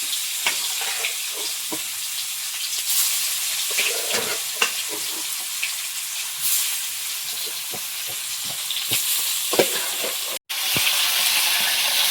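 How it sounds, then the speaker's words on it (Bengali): Large-thorned river sand goby fish, a Sundarbans catch, sizzle in oil in a wok, a close, steady frying hiss with occasional pops and spatters and a brief stir, no talk. "মাছগুলো বেশ কড়াই দেওয়ার সাথে সাথে বেশ সব শক্তি নিয়ে গেল"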